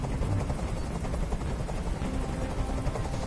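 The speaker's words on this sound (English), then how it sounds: "I can't stand that noise anymore. Tell that helicopter to get out of here." Helicopter noise from the video game Detroit: Become Human, a loud, steady, close rotor thudding and whirring that fills the whole moment without talk.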